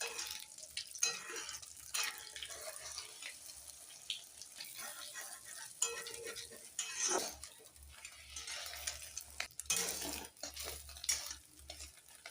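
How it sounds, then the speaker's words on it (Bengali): An egg frying in oil in a pan and being flipped, with soft sizzling, stirring and scraping, clinks of utensils against the pan, and faint running water, all quiet and close. "এবার ডিম দিয়ে দিচ্ছি, এই যে ডিমটা উল্টিয়ে দেবো।"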